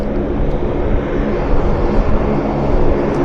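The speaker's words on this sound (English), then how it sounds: "I'm gonna keep the camera on this Airbus transport, this A400." A four-engine Airbus A400 military transport at Vancouver airport gives off a steady, loud broadband roar with a low propeller drone, sustained and unbroken with no voices over it.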